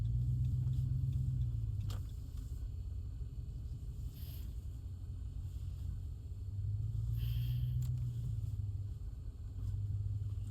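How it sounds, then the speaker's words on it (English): A car slips and slides as it turns into a parking lot, its engine giving a steady, close, low rumble that swells and eases in a few waves, with no talk. "Slipping and sliding, turning into the parking lot here."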